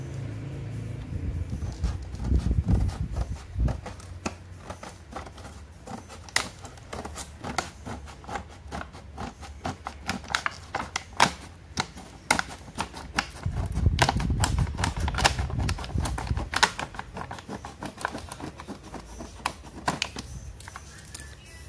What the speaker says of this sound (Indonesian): Kita buka teman-teman menggunakan gunting.